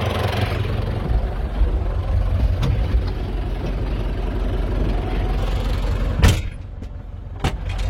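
The engine of an International Harvester 800-series tractor, run during hay tedding on a farm, idles at close range as a steady low rumble, with a couple of brief knocks near the end and no talk over it.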